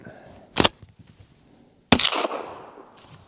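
Two suppressed shots from a SAR9 pistol firing subsonic ammunition, each a sharp, loud report spaced about a second and a half apart, the second trailing a longer ringing decay, with no talking.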